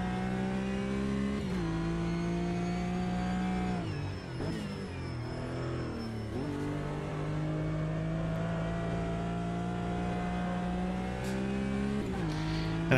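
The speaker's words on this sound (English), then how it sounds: "I gotta ease up on the brake. I'm locking up the fronts quite easy." A GT race car in the Automobilista 2 sim holds a steady engine drone that dips sharply a few times as the driver brakes hard enough to lock the front tires, pitch sliding down then climbing back as it accelerates.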